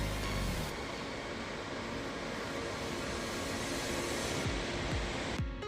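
Sea waves and surf rolling onto Mandarmani beach, a steady broadband wash of breaking water with a strong current, loud and continuous throughout with no voices.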